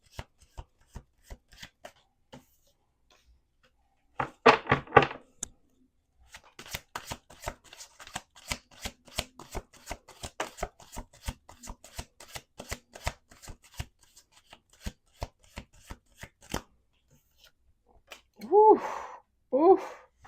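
Tarot cards riffled and bridged repeatedly in quick rattling bursts, close up, with a breathy exhale near the end; no talking.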